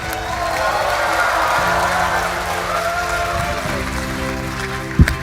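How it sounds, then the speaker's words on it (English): Sustained applause from a large keynote audience at COMPUTEX 2024, steady and full throughout, with a few scattered cheers and a sharp thump near the end. "Let's give him a big applause."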